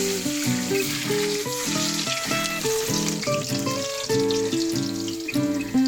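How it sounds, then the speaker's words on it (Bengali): Potatoes fry gently over low heat in oil left from frying onions for a handi mutton biryani, giving a soft continuous sizzle under prominent melodic background music. "পেঁয়াজ ভাজার তেলেই হালকা আঁচে ভাজুন।"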